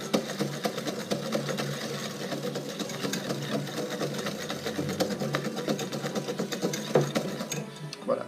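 Electric mixer whirring as it beats a chocolate and fromage blanc batter, a steady mechanical drone with light clattering ticks and small surges, heard fairly close.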